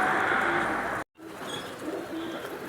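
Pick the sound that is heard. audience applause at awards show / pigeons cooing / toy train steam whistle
pigeons cooing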